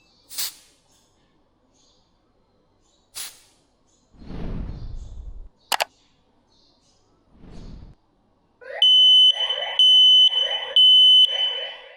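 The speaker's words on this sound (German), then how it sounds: "Jetzt testen wir die Rauchmelder." X-Sense smoke detectors under test give a few short isolated chirps and clicks, then burst into a loud, piercing repeating alarm pattern of three pulses, close and alone without speech.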